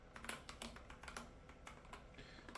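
Typing on a budget Ilovebee i61 gaming keyboard, a quick uneven run of soft key clicks and taps at close range, with no talking.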